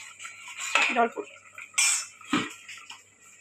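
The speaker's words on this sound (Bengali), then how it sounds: "এবার ঢাকনাটা দিয়ে দেবো।" A metal lid is set onto a cooking pan of katla fish with potol. Two or three close, sharp clanks and rattles stand out against a quiet background.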